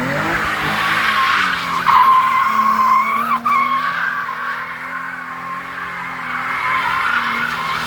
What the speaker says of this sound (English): You can see the first couple of seconds the car wouldn't really go sideways, and then once that diff locked in, the car did go sideways